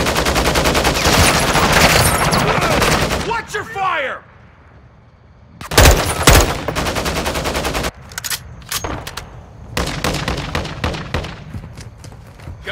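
Rapid automatic gunfire rattles loudly in Call of Duty Modern Warfare, with dense bursts, a short lull, then more sharp shots and cracks; voices call out over the combat.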